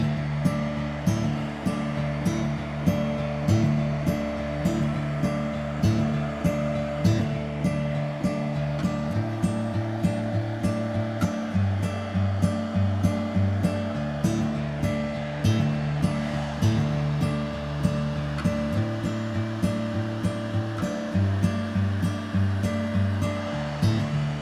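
A small, cheap hair dryer on low speed and cool blows acrylic paint across a canvas, making a continuous close airy whoosh that runs the whole time under rhythmic background music.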